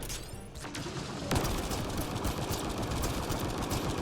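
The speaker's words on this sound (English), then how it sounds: "I just stand back and shoot the fucking thing" Sustained gunfire from a weapon aimed at a target in Mass Effect: Andromeda, a dense rapid burst that grows louder after a sharp shot about a second in and keeps rattling to the end, with no talk over it.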